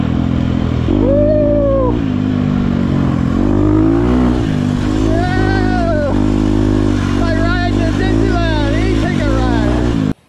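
A Husqvarna 250 motorcycle with a flat front tire revs hard while being ridden, its engine pitch repeatedly climbing and falling in loud, close sweeps.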